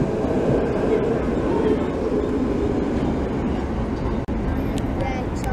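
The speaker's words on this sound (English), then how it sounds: "Here it is, the new CAF tram running on the 19." A new CAF tram on route 19 in Budapest passes close by with a loud, continuous low rumble that holds steady throughout, with no voices.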